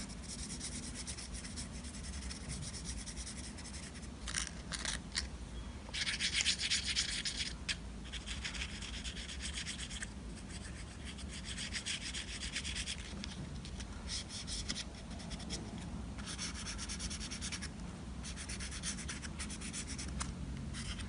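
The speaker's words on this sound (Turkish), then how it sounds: "Keçeli kalemin ucu ince olduğu için boyamak biraz daha zaman alıyor." A fine-tipped felt-tip pen colouring a small craft piece with continuous soft rubbing and scratchy strokes, close and quiet, with brief bursts and pauses as the strokes change and no voices.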